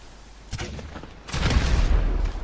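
A grenade launcher in GTA Online fires with a short sharp crack, then a louder, rumbling explosion follows and lingers, both close and heavy.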